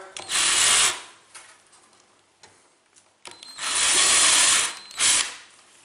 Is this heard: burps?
no